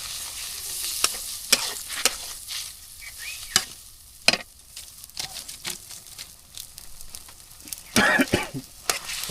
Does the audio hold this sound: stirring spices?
yes